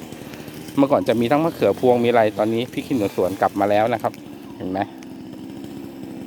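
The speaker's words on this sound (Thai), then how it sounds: "ตอนนี้เสียงเครื่องยนต์อาจจะดังนิดนึงเนี่ยนะครับ" Engine running steadily in a garden planted with trees and vegetables, a constant mechanical drone under someone speaking close by, continuing after he stops.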